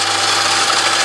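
A lathe spinning at 1300 RPM, its top speed, gives a steady, loud mechanical whir with a constant low hum underneath and no voices.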